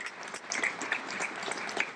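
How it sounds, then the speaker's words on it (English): An audience at an economic development plan presentation applauds, a steady patter of many hands clapping at moderate volume, with no one speaking over it. "big round of applause for that"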